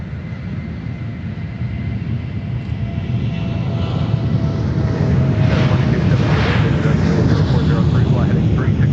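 A plane taking off from runway 4 at Minneapolis–St. Paul airport in a crosswind: a loud, steady broadband jet roar that swells gradually, with wind buffeting the microphone and faint radio voices beneath.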